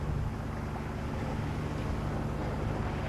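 Steady low engine drone and water rush from a sailboat motoring under power in foggy water toward Port Angeles, continuous and even with no talking.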